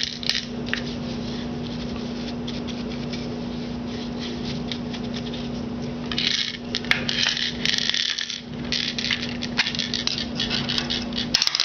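Loose gold leaf knocked off a muskie bait, a steady stream of light tapping and brushing clicks with a low constant hum beneath, close and quiet, growing busier toward the end.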